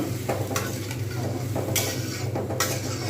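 Bhetki fish curry sizzles gently in a pan while a utensil stirs and scrapes, with several sharp clinks and scrapes over the soft, steady frying hiss and no voices.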